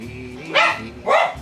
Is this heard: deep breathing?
no